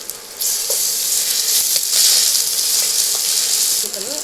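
Ginger garlic paste dropped into hot oil with chillies, curry leaves and turmeric sizzles loudly and steadily for a country-style broad bean curry, a continuous close frying hiss with a few stirring scrapes and no talk.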